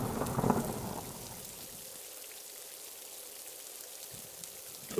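Steady rain hisses down continuously, with a brief low rumble near the start, no voices, a constant wash of falling water.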